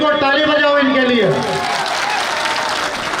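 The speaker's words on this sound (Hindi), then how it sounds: "ताली बजाओ इनके लिए" Audience applause at a public speech, a dense burst of clapping from a crowd that swells as a speaking voice tails off, then continues as a steady wash of hands.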